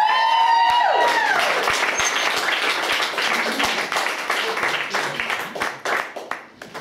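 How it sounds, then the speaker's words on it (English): A comedy club audience applauding as a comedian is introduced: dense, loud clapping just after a voice, tapering gradually with some scattered claps and cheers fading out. "Please, big round of applause for Charlene Scott Gibson."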